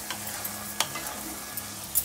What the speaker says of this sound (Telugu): ఒక కప్పు అలసందలు ఉడకబెట్టి పెట్టుకున్నాను కదా అవి వేసేస్తున్నాను